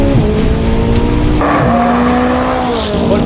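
McLaren 570S and Lotus Eletre R launching side by side at full throttle from a rolling start, loud engine roar with rising pitch, a gear change midway and faint tire noise, continuous and close throughout.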